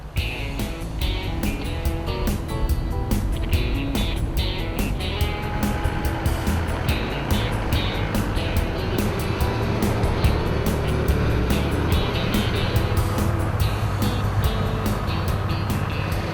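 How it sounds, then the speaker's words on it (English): A convoy of 4x4 vehicles drives along beach sand, with a steady, rough engine roar blended with wind buffeting and the wash of nearby surf throughout, and no voices. "Once on the beach, the convoy turned south for some fun sand driving."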